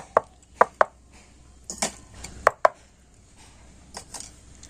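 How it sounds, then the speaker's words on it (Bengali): Small bowls of rice-flour batter for bhapa pitha are tapped against a hard surface, several sharp close knocks in quick pairs spaced across the moment, with quiet gaps between. "এখন আমি বাটিগুলো একটু এইভাবে ঠুকে নিয়ে ব্যাটারটা ভালো করে সেট করে নেব"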